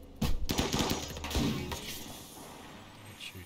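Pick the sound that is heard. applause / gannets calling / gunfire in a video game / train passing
gunfire in a video game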